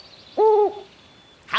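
A cartoon owl living in an old hat gives a single clear, loud hoot, with a faint rustle after it and no voices.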